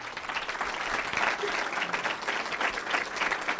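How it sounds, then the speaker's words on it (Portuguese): An audience gives a sustained round of applause for Priscila Cruz at an education event, with dense, even clapping throughout and no talk over it. "Uma salva de palmas para a Priscila"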